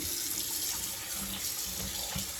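Tap water running from a faucet over seized, stuck-together pasta, a close, steady splashing rush with a few soft low clunks as the noodles shift, no talking.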